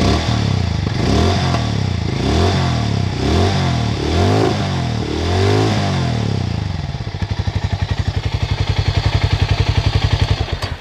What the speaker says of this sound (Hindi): अब यहाँ पर मैं आपको नोट भी करा देता हूँ कि कैसा इसका एग्जॉस्ट साउंड आता है।